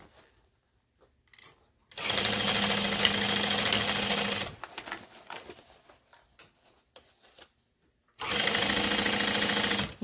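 A sewing machine stitches back and forth over vinyl or leather bag handles in two loud, steady bursts of rapid mechanical whirring, separated by quiet pauses and lighter handling noises.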